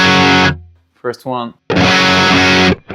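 Distorted electric guitar through a BT MT15 distortion pedal, compressed and growly, plays two sustained loud chords with a short picked phrase between them, and a voice speaks briefly in a gap.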